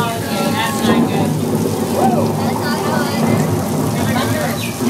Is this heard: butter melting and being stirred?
no